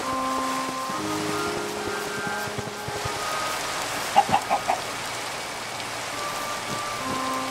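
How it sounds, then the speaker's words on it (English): Chickens clucking in the Minecraft video game, a few short clucks in a quick cluster near the middle over a steady rain-like hiss and faint tonal game sounds, with no speech. "Two chickens and a couple of pigs."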